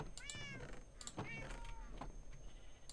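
Several short Minecraft cat meows sound in quick succession over a steady background hum, thin and slightly synthetic, with a soft voice murmuring faintly beneath.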